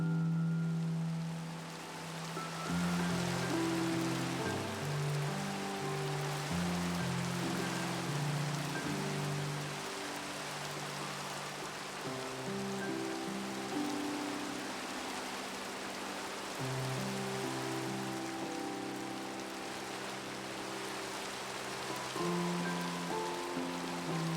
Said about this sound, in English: And then eventually it started to rain, so I ran over.